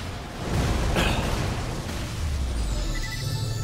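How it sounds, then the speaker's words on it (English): Explosive charges detonating in Borderlands, a loud broad burst around one second that rolls into a sustained rumbling roar lasting several seconds, with no talk. "Detonate the charges now."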